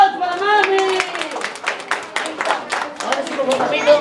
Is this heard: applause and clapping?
yes